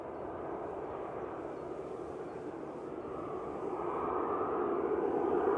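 A TUI airliner departing Manchester Airport makes a steady, moderately distant jet roar that grows slightly louder toward the end, with no voices.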